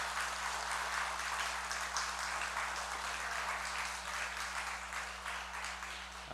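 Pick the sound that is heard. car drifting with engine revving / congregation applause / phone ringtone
congregation applause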